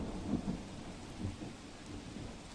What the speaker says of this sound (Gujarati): પાલીતાણા શહેરમાં ભારે પવન સાથે વરસાદ વરસી રહ્યો છે